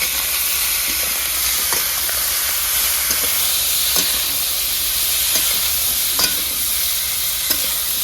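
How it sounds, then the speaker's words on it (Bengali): Small carp pieces fry in hot oil with salt and turmeric in a rural kitchen, giving a loud, steady hiss and sizzle, with occasional soft scrapes of stirring and no voices. "দেবো একটু লবণ আর হলুদ গুঁড়ো, ভালো করে ভেজে নেবো"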